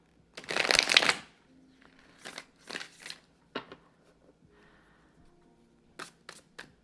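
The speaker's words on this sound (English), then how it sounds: "I'm going to do one more big boy shuffle" Tarot cards shuffled in a loud riffle burst, followed by several softer shuffles and sharp taps of cards being squared, close up with no talking.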